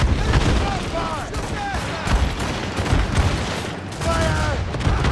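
Ship cannon broadside firing in Assassin's Creed Rogue: a constant roar of booming cannon fire and battle noise, loud and dense, with shouted voices over it.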